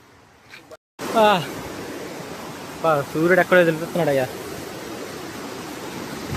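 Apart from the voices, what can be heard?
flowing water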